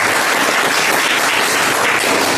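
A crowd at a coaching institute's New Year event breaks into loud, steady applause, with dense clapping that carries on without a break for the whole moment.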